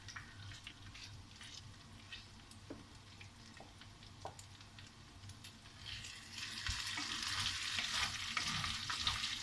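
Meat browns in a frying pan for a Finnish pork-fat gravy (läskisoosi): a steady, close sizzle with occasional scraping and clinks from stirring. The sizzle grows louder and busier toward the end.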